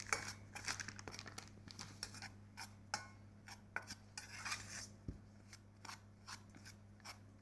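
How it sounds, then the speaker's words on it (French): Cake batter being mixed by hand with cornstarch, for an egg-free, butter-free rolled sponge: repeated scraping and tapping of a utensil against a bowl in an uneven rhythm, close and fairly quiet, with no talking. "Alors, je mélange bien."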